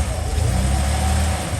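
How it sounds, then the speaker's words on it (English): A rebuilt Holden HJ ute engine revving close by, a steady loud rumble that holds throughout with slight swells in pitch. "Is that okay, mate, if I give her a rev?"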